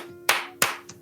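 Three sharp hand claps ring out about a third of a second apart during a podcast, each crisp and close, the last one softer, over a low steady hum.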